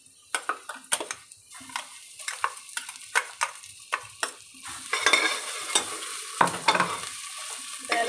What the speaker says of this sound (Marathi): कांदा मस्त आपला परतलेला आहे, त्याच्यात मी घालते हा मसाला वाटप.